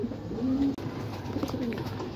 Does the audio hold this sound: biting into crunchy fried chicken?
no